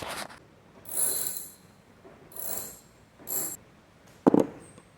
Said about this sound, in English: I'm gonna use a socket wrench to get these two guys off